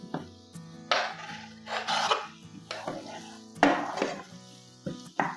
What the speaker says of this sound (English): So now it's time to add to the pan the garlic and the ginger.